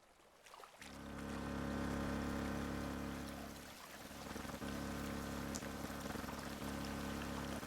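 Water rushes through drains in the DrainSim video game, a steady, loud flowing roar with a low rumble that swells and dips slightly, plus occasional small splashes or clicks.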